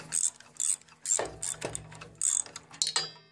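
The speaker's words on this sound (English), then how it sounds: "Then you loosen this bolt over here." A wrench ratchets on a bolt holding the motor of a Unisaw table saw, with several short bursts of close metallic clicking separated by brief pauses and a clank or two.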